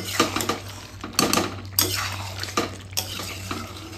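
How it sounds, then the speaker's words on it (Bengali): Utensil scraping and clinking in a pan as dried chilli powder is stirred into chicken, with repeated near, close metallic scrapes and knocks in an irregular rhythm over a steady low hum; no talking. "শুকনো লঙ্কার গুঁড়ো এবার ভালো করে মেশাতে হবে।"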